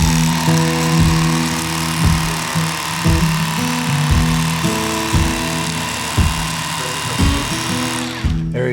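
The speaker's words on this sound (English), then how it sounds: "that's where the electric fillet knife does really well because you can just cut that out right afterwards" An electric fillet knife slices along a fish backbone while filleting fish for frying, its close, steady motor whine dipping rhythmically as the blades bite through, with no talking.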